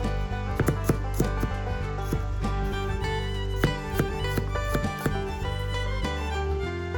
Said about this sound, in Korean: 마늘 6알은 편으로 썰어주세요